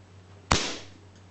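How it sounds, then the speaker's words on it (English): A single sharp, loud crack of a Crosman 2240/2250 CO2 airgun fired without a silencer, a sudden burst that fades quickly into a low steady hum. "the first shot will be without the silencer"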